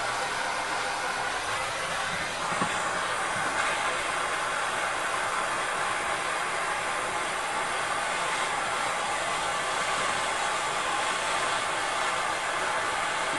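A soldering torch flame roars steadily while heating a brass shower valve, a continuous broad airy hiss that stays loud and unbroken throughout with no voices.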